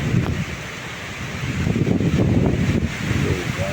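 Strong gusting wind roars and buffets the microphone ahead of rain, a dense rushing noise with rising and falling surges throughout.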